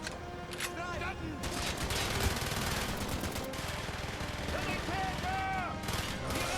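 Rapid automatic gunfire and scattered shots in Call of Duty: Black Ops, a dense, sustained battlefield clatter with whistling and other game effects mixed in, while soldiers' voices shout over the firing.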